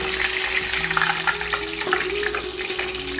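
Homemade salmon fries in a pan with a dense, steady sizzle and crackle, loud and close throughout with scattered pops.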